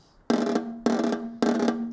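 Snare drum playing buzzed, crushed rolls: three sustained sizzling bursts, each about a quarter second long, evenly spaced, close and loud with a ringing drum tone underneath, no talking.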